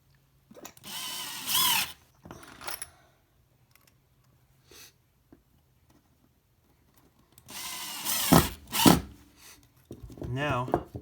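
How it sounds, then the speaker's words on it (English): A power drill drives screws into a subfloor patch in short bursts, pausing between runs, close and fairly loud with quiet gaps and a little handling noise. "I'm going to drill these in"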